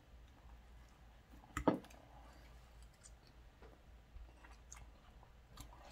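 Someone chews a mouthful of frozen-meal bacon ranch mashed potatoes with cheddar cheese, quiet close mouth sounds with one sharper click or bite near the start and faint wet smacks after.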